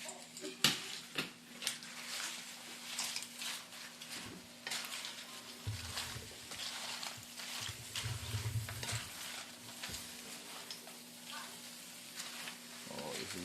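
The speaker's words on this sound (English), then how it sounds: "stirring around, stirring away" Migas sizzle and crackle in a frying pan while being stirred around, giving uneven scraping and clattering bursts over a constant low hum, with a voice speaking quietly in the middle.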